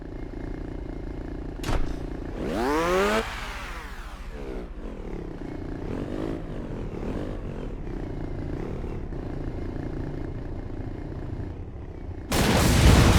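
Explosive fireworks blast in the Crash Time 4 video game, a sharp bang followed by a rising, whistling burst and a rumbling fade, then a loud crackling noise rushing in near the end.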